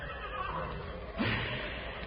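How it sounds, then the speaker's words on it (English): A single horse lets out a short whinny, fairly close and brief, rising out of a dense, muffled background for about a second. "That's my horse, kid."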